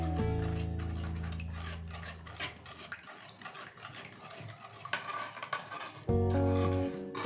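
A spoon stirs mango pulp into chilled milk, making light repeated ticks and clinks against the bowl. The soft stirring is partly covered by sustained background music that fades out in the middle and returns at the end.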